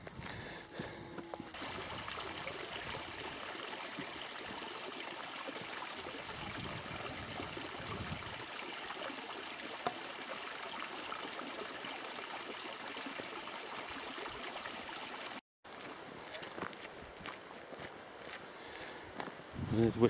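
A river flows on Dartmoor near Wistman's Wood as a steady broad rushing wash that persists throughout, with footsteps and a brief dropout partway through.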